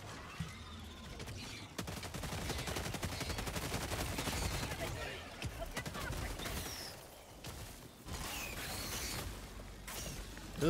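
A gun in Helldivers 2 fires in rapid bursts with dense, continuous gunfire and brief pauses, amid clattering game action.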